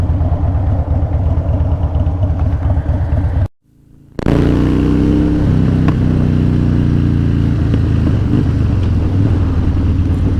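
Harley-Davidson-style motorcycle with a 103 engine and aftermarket drag pipes with baffles installed, rumbling loudly up close with steady revs, cutting out briefly to near silence before coming back into a heavier, shifting engine note.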